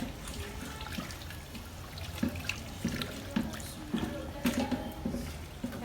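Water sloshes and splashes in a container as batik fabric is dipped into boiling hot water and moved around to remove wax, with intermittent drips and gurgles close by.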